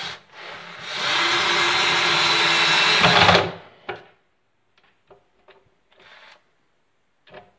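A power screwdriver driving a screw through a shelf board into a wardrobe gives one sustained whirring run of about two seconds, followed by faint scattered clicks and knocks of handling.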